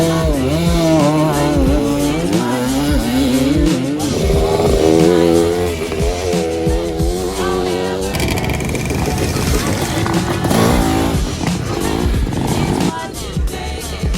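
Several dirt bikes race around a motocross track. Engines whine and rev continuously at close range, pitches rising and falling as the riders shift and pass, with speech heard over the din.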